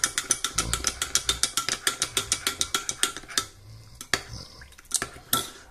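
A spoon or utensil clatters rhythmically against a dish while potatoes are mixed with salt, a quick run of sharp close clicks that slows to a few scattered knocks.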